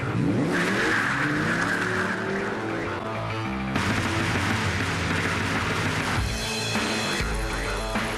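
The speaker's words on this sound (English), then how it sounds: "Inside, we've got our very first prototype V10 all-aluminum engine." A prototype mule car fitted with an early all-aluminum V10 engine drives and revs loudly nearby, its engine note rising and shifting through gears, with brief tire noise.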